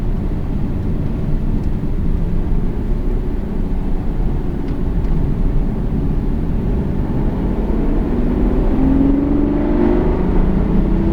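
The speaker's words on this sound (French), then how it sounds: "Et là, on accélère. Vas-y, accélère." A loud, continuous race car engine roar builds on a track at the Bugatti circuit, Le Mans, with the pitch rising as the car accelerates toward the end, heard close and without talking.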